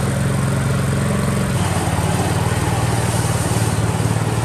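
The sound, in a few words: Toro 23740 power broom engine running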